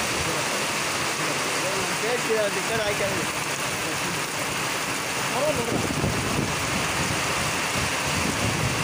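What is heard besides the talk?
heavy rain pouring down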